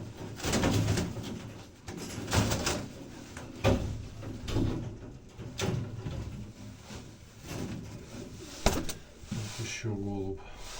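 Black pigeons coo in a loft, with soft low throaty calls in irregular bursts close by, mixed with handling noises and someone talking intermittently.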